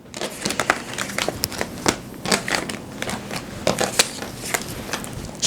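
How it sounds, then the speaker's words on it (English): Tarot cards being shuffled by hand, a rapid run of crisp papery riffles and snaps, close and fairly loud, with no talking. "Shuffling card ASMR bonus feature."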